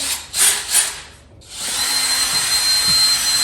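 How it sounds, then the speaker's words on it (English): A power drill pre-drills a wooden top rail for a sauna roof: a couple of short revving bursts, a brief pause, then a steady, loud, close whine as the bit bores into the wood. "Steve's pre-drilling that top rail"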